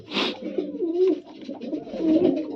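Racing pigeons, cocks and hens released together, cooing softly in a short close-up burst of throaty, rolling calls after a brief wing flutter.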